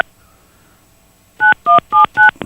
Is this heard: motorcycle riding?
no